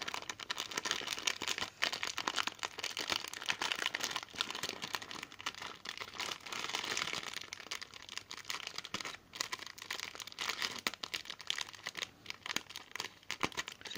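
Paper and heavy tape being pulled and torn open on a wrapped gift package, steady crinkling, crackling and ripping close to the microphone for the whole stretch, with no talk.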